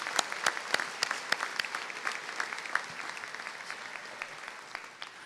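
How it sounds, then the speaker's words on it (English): Audience at a high school commencement ceremony applauding the faculty and staff, a dense, sustained burst of many hands clapping that gradually tapers off, fairly distant in a large hall. "Let's give them a round of applause."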